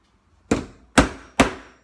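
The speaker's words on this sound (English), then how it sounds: "what you need is just get your hammer" A hammer strikes a computer part three times to force it into place, each a sharp, close whack with a short decay, spaced roughly half a second apart, with no voices.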